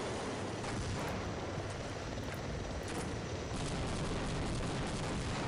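Rocket explosions in the video game Overgrowth Delta Particles: a dense, continuous roar of booming blasts and rumbling debris, loud and sustained throughout without pause.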